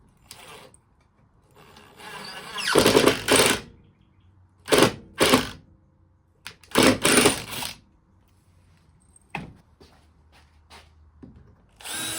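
A power drill fitted with a 1.5 inch bit whirs in several loud bursts of a few seconds each, separated by quiet pauses, with shorter brief spurts toward the end.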